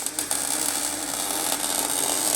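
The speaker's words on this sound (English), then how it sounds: "He's got some welding going on" Welding on a Foxbody while a trailer hitch is fitted, a loud continuous crackling buzz that holds steady for the whole stretch, close by and with no talking over it.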